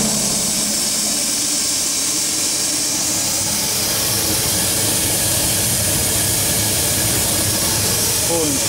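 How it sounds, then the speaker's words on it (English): Steam boiler blower drawing steam up the stack, a loud, continuous broadband hiss and rush with a low rumble underneath, steady from start to finish. "Pulling steam from the boiler up the stack."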